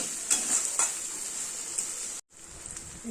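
Onion fries in a pan with a close, steady sizzle, broken by a few scraping stirs of a spatula and one brief drop to near silence before the hiss returns.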